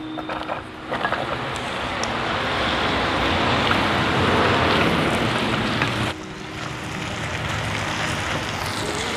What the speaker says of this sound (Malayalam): അപ്പോൾ നമുക്ക് ഉരുളക്കിഴങ്ങും ക്യാരറ്റും ഇതിലേക്ക് ഇട്ട് കൊടുക്കാം